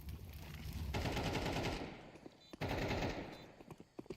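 Pistol gunfire in a professional Counter-Strike match, fast bursts of close, sharp shots in two rapid volleys with a few isolated shots after them.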